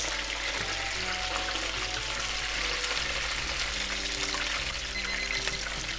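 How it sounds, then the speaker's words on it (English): Karaage chicken pieces deep frying in a pot of hot oil at home, giving a steady, dense sizzle and crackle that holds evenly loud throughout, with no voices. "So I'm gonna fry like this for about 2 minutes."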